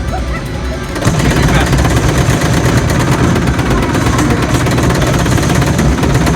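Assault rifle gunfire in the shooter video game Halo: Fire Team Raven, dense rapid automatic bursts with mechanical clatter running nearly continuously after a short lead-in.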